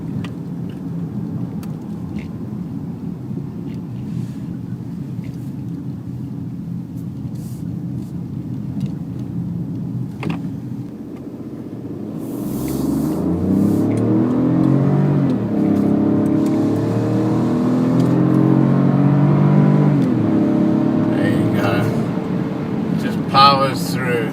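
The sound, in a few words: Peugeot 2008 1.2 engine revving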